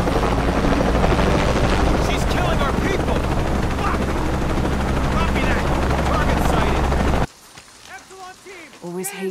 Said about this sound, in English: automated helicopters.